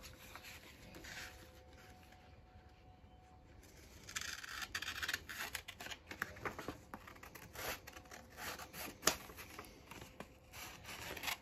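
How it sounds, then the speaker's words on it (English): Scissors cut through fabric for sublimation graduation stoles, a close run of crisp snipping and rasping strokes that starts after a quiet stretch and continues irregularly, with no talking. "And all we're doing is just cutting it with the scissors"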